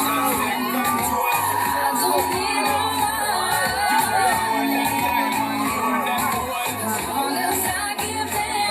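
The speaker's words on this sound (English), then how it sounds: "Let's give a huge round of applause" A lively college-week contest crowd in Nongstoin roars for a contestant, loud cheering, whoops and shouts layered over a continuous din of clapping and noise.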